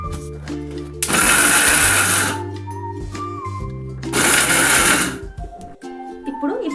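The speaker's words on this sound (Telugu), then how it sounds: "మిక్సీ పట్టేటప్పుడే మనం ఈ 5-6 ఇలాచీలని ఇందులో వేసేసుకొని మిక్సీ పట్టుకోవాలండి" A mixer grinder pulverizes flax seeds with a few cardamom pods, running in two loud whirring bursts of about a second each separated by a pause, with someone speaking between and around them.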